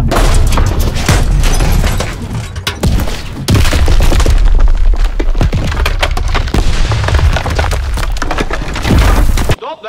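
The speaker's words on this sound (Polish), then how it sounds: "tu wybucha atomówka chyba" Heavy, booming explosions and crashing debris in Call of Duty: WWII, loud and continuous with sharp cracks and splintering impacts layered together.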